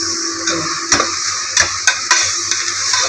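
Whole biryani spices sizzle in hot oil in a pan: cinnamon, fennel, cloves and bay leaf. The frying hiss is loud and steady, with scattered clinks and scrapes of a stirring spoon close up, and nobody speaks.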